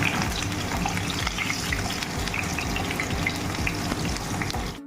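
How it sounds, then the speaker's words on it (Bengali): Chopped tomatoes fry in a pan for a vegetarian banana-flower kofta curry, giving a steady, close sizzle with soft popping throughout. "সেই টমেটো দিয়ে ভালো মতন আরেকবার একটু ভালো করে ফ্রাই করে নিতে হবে।"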